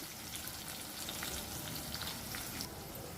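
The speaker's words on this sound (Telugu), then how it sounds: "పచ్చిమిర్చి కూడా మంచి గోలనియాలి" Green chillies fry in hot oil with a quiet, continuous crackling sizzle close by. Small pops dot the sound, and no one speaks over it.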